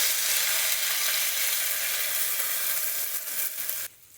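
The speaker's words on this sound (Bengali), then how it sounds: "ভালো করে কষাবো।" Onion with ginger-garlic paste and onion paste sautés in a hot pan, a loud, close, continuous sizzle with faint stirring scrapes, cutting off abruptly near the end with no talk.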